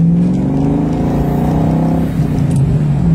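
A supercharged Saleen Mustang S281 SC engine rumbles close by with a deep, throaty note and a brief rev that swells and dips over about three seconds.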